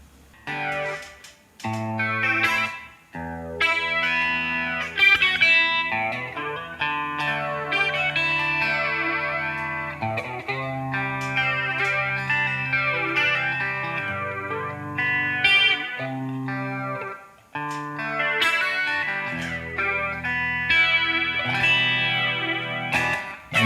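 An electric guitar through a TC Helicon Go Guitar effects preset plays a melodic passage of chords and single notes, thick with chorus, distortion and echo, with no voices.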